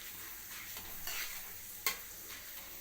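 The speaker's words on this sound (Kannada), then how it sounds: "ಎಲ್ಲದನ್ನು ಅಷ್ಟೊತ್ತು ಫ್ರೈ ಮಾಡ್ಕೊತಾ ಇದ್ದೀನಿ" Chana dal and cumin seeds fry in a pan, a soft steady sizzle with occasional stirring scrapes and one sharp clink near the end, no voices.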